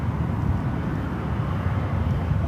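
An American Airlines airliner landing on runway 28 right at San Francisco airport, a steady low rumbling roar of jet engines and wind, heard alone without speech.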